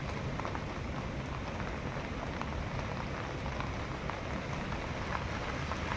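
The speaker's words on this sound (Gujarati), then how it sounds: "મારે તો જો આવો વરસાદ વરહે ઝીણો" Light drizzling rain falls steadily in a soft, even patter on surfaces, close and continuous with no voices.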